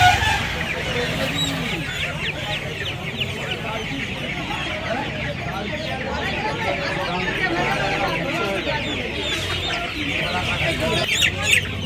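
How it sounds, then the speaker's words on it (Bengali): Chickens at a busy poultry and pet market cluck and squawk continuously, many birds close by with an occasional rooster crow, under a steady din of market chatter and people talking. "এই একটা অস্ট্রেলিয়া মুরগি দেখতে পাচ্ছেন"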